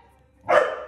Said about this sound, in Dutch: Ja, jij kan blaffen.